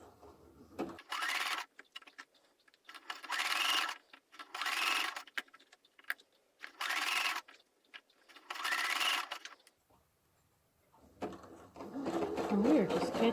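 Sewing machine zigzag stitching a fabric bowl: short bursts of fast mechanical whirring, about five evenly spaced runs separated by near-silent pauses, then a longer busier stretch at the end; close and clear.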